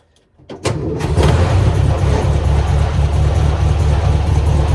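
An old barn-find car, off the road for 48 years, cranks briefly and catches, then settles into a loud, steady running drone close at hand.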